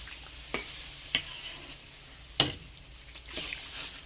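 Papaya cooking in thick coconut milk is stirred in a pan under a steady sizzling bubble, with several sharp scrapes of the spoon standing out close by.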